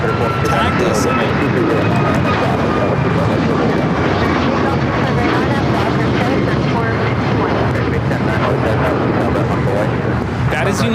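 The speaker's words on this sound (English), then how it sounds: "That is United Airlines 2667 taking off to Washington Dulles on the MAX 9." A United Airlines Boeing 737 MAX 9 takes off from LAX bound for Washington Dulles, its jet engines producing a loud continuous roar across the whole stretch while people talk over it.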